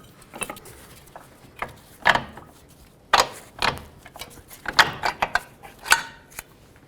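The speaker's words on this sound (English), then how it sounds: "Now with a 17mm, remove these 2 nuts and this 1 bolt here" A 17mm ratchet removes lower ball joint nuts and a bolt on a 2001-06 Toyota Camry: a series of sharp metallic ratcheting clicks and clanks in irregular bursts, close up, with quiet gaps between.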